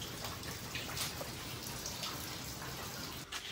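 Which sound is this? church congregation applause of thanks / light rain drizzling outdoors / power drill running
light rain drizzling outdoors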